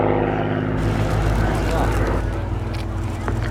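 Dakota and Lancaster propeller aircraft fly in line-astern formation at an air show, their engines giving a steady, loud droning roar that persists throughout.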